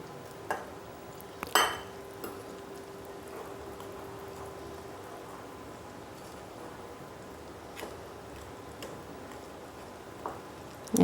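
Chocolate muffin batter being stirred with milk in a bowl, giving a soft steady scraping swish with a few faint utensil clinks and light taps against the bowl, no voices.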